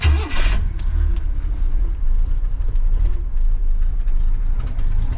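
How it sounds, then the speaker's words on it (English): A 1967 Chevrolet Nova engine starts and runs without a carb cheater, a steady loud low rumble close by throughout. "So what we're going to do now is start the car up."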